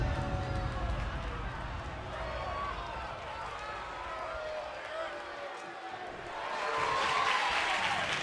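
A wrestling crowd at a WWE NXT women's tag team title match cheers and roars in a steady wash of noise that swells louder near the end, with ringside commentary talking over it.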